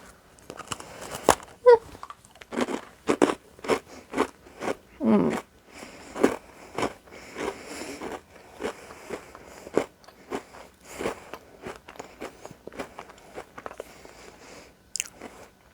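Crunchy butterscotch oatmeal cookies are bitten and chewed up close, a long run of sharp crisp crunches in an uneven rhythm with short pauses between bites, set against otherwise quiet surroundings.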